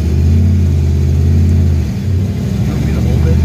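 A 1967 Shelby GT350 V8 pulling away on a wet, slippery road, with a loud, close, deep engine rumble that holds steady and then shifts pitch as it accelerates, while someone talks over it.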